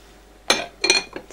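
A lid set onto a pot holding bird's nest in hot water: three short, close clinks and rattles in quick succession, with a quiet room in between.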